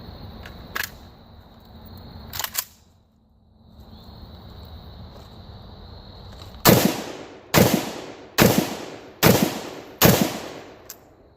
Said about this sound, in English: now we're going to take some more rapid fire shots so you guys can see what it's like trying to keep it on target